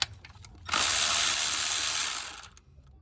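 A ratchet works loose a nut on a 4.7-liter V8 Toyota Sequoia or Tundra engine, a close, loud burst of rapid clicking lasting nearly two seconds between a few quieter taps.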